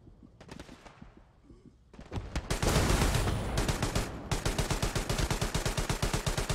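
Gunfire in the World War II shooter game Hell Let Loose: scattered loud shots at first, then a dense burst of firing, settling into a rapid, even machine-gun rhythm of sharp cracks, close and loud.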